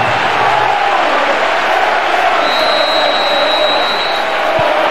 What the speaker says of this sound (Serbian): Slušajte samo reakciju navijača.